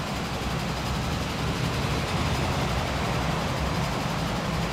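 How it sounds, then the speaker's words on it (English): A diesel train engine on a freight line in the Transport Fever video game, a steady broad rumbling drone that stays even throughout without pauses or talk. "You can hear a diesel engine on the side."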